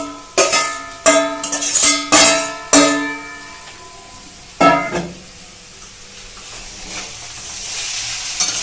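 Fried cauliflower florets tipped into potatoes sizzling in a pan, several sharp clattering drops and scrapes in quick succession, then a softer settling sizzle, close and loud.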